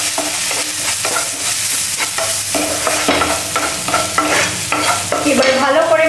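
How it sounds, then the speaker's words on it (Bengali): Ground spices with salt, turmeric, chilli and cumin being stir-fried in a pan, loud rhythmic scraping strokes of a spatula over a frying hiss, no speech. "এবার ভালো করে মশলাটাকে কষিয়ে নেব"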